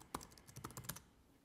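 Quiet, quick keystrokes on a Mac computer keyboard, about eight or nine light taps in a short uneven burst, close and alone with no talking.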